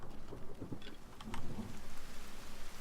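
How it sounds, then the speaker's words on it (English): Rain falling in the video game The Forest, a steady soft hiss of rainfall with a low rumble like distant thunder, moderately quiet and continuous with no talk. "Ooh, here come the rain!"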